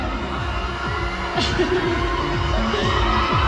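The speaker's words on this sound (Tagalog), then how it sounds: "let's all give them a round of applause" An arena audience at a beauty pageant coronation night in San Juan cheers and applauds, a steady loud crowd roar with whoops rising midway, no words spoken.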